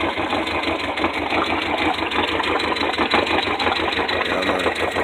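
A boat engine idles in a steady, close, loud drone with an even low throb, heard alone on a taxi boat before a scuba dive.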